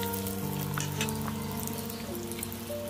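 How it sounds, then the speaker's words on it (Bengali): Hot oil for Kolkata street-style vegetable chops, a dense continuous bubbling sizzle close and fairly loud, steady throughout with a faint tonal hum underneath. "তেল দেওয়া হয়েছে, তেলটা তাড়লেই আমরা ভাজতে থাকব"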